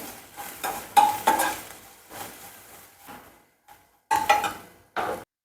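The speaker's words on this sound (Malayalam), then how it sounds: "കുറച്ച് കുരുമുളക് പൊടി ആയിട്ടൊന്ന് ഇളക്കി കൊടുക്കാം" A utensil stirs jackfruit puff filling with pepper powder in a pan, giving intermittent scraping and clinking strokes in short bursts with pauses between them, close and moderately loud.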